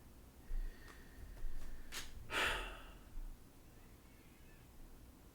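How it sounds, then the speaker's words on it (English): A cat meows once from a played recording, a short tonal call standing out clearly against low room hiss, with a few soft breathy sounds around it and no talking. "Oh, that was the cat from the recording."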